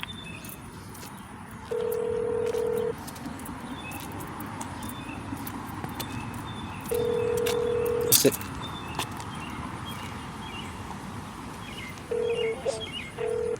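Three separate telephone keypad tones, each a steady beep lasting about a second, sound on an automated county phone menu for heating and air conditioning emergencies, with a recorded voice talking between them.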